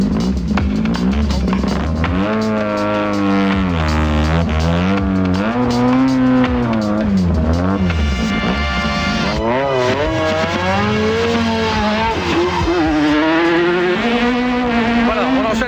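A Renault Clio Maxi rally car driving at speed down a forest stage, its engine loud and close, revs sweeping up and down through gear changes and braking for the whole stretch.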